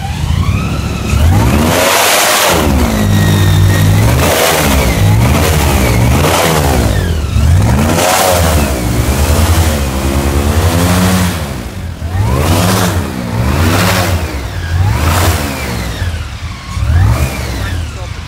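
A loud airboat engine revs in repeated short bursts, pitch climbing and dropping again and again, close by with a steady roar between pulses.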